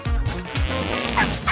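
A puppy gives a quick run of short, high yips and small barks, close and fairly loud, with a faint whimpering edge between them.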